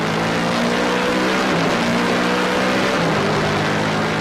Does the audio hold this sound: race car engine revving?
yes